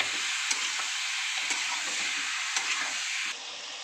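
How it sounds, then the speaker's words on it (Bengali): Amodi fish fried in oil with turmeric and chilli powder for a fish chorchori, a loud continuous sizzle with faint clicks of stirring that quietens abruptly near the end. "তেলে নাড়বো"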